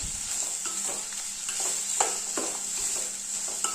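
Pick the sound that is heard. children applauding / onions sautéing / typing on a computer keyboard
onions sautéing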